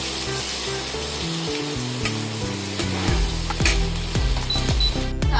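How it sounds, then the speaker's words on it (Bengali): Onions fry in a pan with a continuous close sizzle and occasional stirring scrapes, with music playing underneath and no talking. "পেঁয়াজটাকে একটু ভাজা ভাজা করে নেব।"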